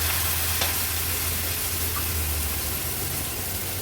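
Dry ground coconut paste sautés in oil in an Agri Koli style kitchen, a steady close hiss and sizzle with a faint low hum and little variation, no voices.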